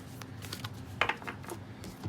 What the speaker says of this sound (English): Let me just shuffle it a little bit more.